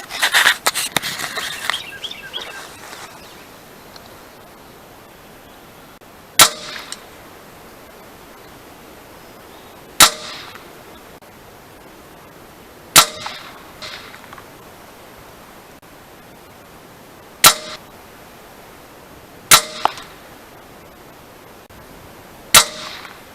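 An Avenger air rifle fires at a 50-yard target outdoors: six sharp, loud single shots spaced several seconds apart over quiet, hissy background, after a brief rustle at the start.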